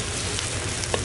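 Chili peppers stir-fried in a wok give a steady, close hiss of sizzling oil, with faint scraping as they are tossed.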